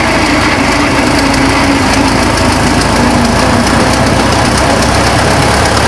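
A 1923 Ford Model T Speedster engine runs loud and steady as the car pulls away, a continuous mechanical drone with a rattling, buzzy texture and no breaks.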